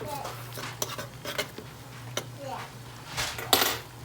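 Roasted fingerling potatoes being stirred in a pan, with scattered clinks and scrapes of a utensil against the metal, close by, while a person talks over it.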